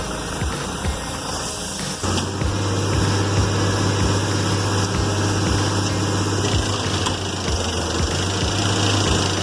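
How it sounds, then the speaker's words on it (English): Big logging truck stuck deep in mud, its engine droning steadily and then surging louder partway through into a hard, sustained labouring roar with rhythmic thumping, continuous and close. "Just pressing the gas and spinning the tires will only sink it deeper."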